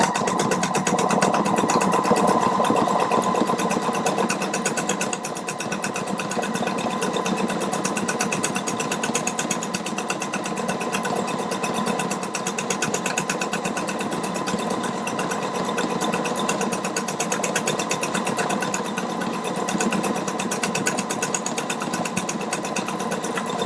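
A Pfaff Quilt Expression 720 sewing machine runs a tripled stitch, its motor humming in a fast, steady whir with a rapid needle rattle that carries on without pause and without speech.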